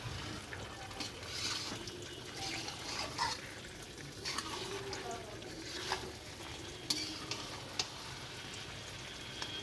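Tomato and capsicum sautéing with ginger-garlic paste and garam masala in a pan, a steady close sizzle with scraping stir strokes and occasional spatula clinks, no talk.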